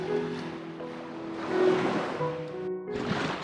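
Sea waves wash in where a river meets the sea on a Goa beach, a soft, rolling surf with wind-like rushing and gentle swells rising and falling over a few seconds.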